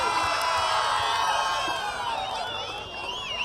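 A large outdoor crowd at a village goddess festival cheers and whoops in a loud, continuous wash of voices, with some shouting and scattered clapping.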